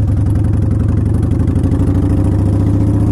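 A Harley-Davidson Softail Standard motorcycle idles close by, its V-twin engine throbbing in a loud, steady, even lope with a mechanical clatter layered over the pulses, and no one speaking.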